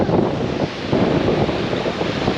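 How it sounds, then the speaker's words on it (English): Strong wind roars and buffets the microphone continuously, a loud rumbling gusty noise with no talking. "I know it's windy up here"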